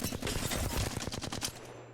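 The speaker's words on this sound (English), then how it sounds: "you just start shooting without holding your analog stick" Rapid, steady automatic gunfire from a weapon in the Apex Legends video game, a dense rattling burst of evenly spaced shots that stops just before the end, close and loud, without talking.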